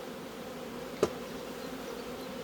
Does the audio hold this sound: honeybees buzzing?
yes